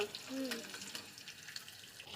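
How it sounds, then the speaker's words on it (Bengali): Chicken pieces, marinated in vinegar, frying in a wok in a home kitchen, giving a steady soft sizzle and crackle throughout with light stirring noises, fairly quiet and without speech. "তোমার জন্য একটু চিকেন ফ্রাই করছি"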